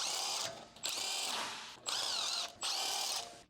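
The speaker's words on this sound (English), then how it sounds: "With a large electric impact wrench, remove the rear wheel lug bolts." Large electric impact wrench with a 17mm deep socket removing rear wheel lug bolts on a BMW 325Ci E46, four close, loud whirring bursts with brief pauses between them.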